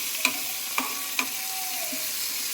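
Green chilies, peanuts and a tomato fry in oil in a pan with a soft, steady sizzle, broken by three sharp taps of a spoon against the pan; no one speaks.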